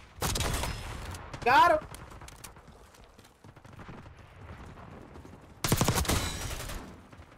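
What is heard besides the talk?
Jackal PDW SMG gunfire in video game Black Ops 6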